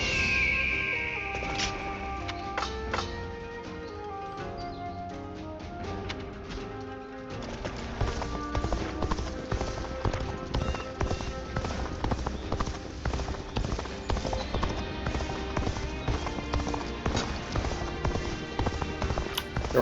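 Horse gallops in the video game Dynasty Warriors Origins, with rapid, steady clip-clop hoofbeats under a layer of music and game sound, running continuously and louder in the second half.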